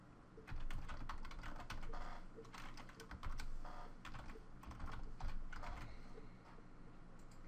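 Fingers tap out an email address on a computer keyboard, a close, steady run of clicky keystrokes in quick bursts with brief pauses, no voices present.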